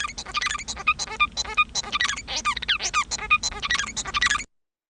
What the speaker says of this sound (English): So if the domesticated type of song sounds like this,